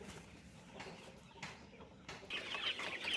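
Young chicks suffering from flu cluck softly in a coop, giving short, quiet repeated calls with faint rustling and low background noise.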